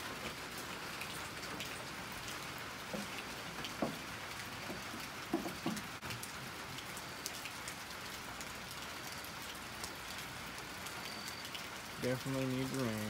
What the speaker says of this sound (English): Definitely need rain.